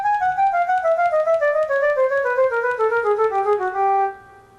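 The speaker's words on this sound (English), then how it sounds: "If you do a pattern going down by 2 and up by 1, it sounds like this." A Samchillian keyboard plays a melodic pattern stepping down by two and up by one, a clear synth-like tone of rapid single notes that steadily descend in pitch before ending and fading out.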